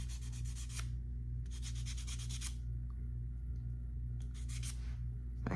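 Hand sanding with 400 grit sandpaper, a close, dry rubbing rasp in three bursts of quick back-and-forth strokes separated by pauses, over a steady low hum.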